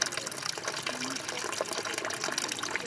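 Water splashing and rushing steadily in a drinkable well at Los Pocitos in Cajones, Morelos, Mexico, a continuous close wash of sound with a faint voice in the background.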